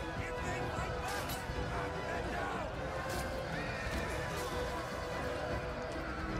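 Horses neigh and gallop in a Total War Rome 2 siege battle, a dense continuous din of whinnies and hoofbeats over battlefield noise, with a few sharper neighs standing out.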